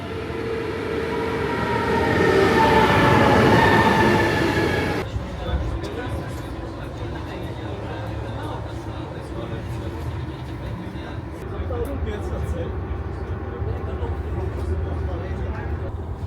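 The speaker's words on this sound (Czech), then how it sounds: "jedeme vlakem, jestli jste to nepoznali" Train ride toward Brno heard from inside the carriage, a steady rumbling rail noise that swells loudly early on, then settles into a continuous lower drone with faint rattles.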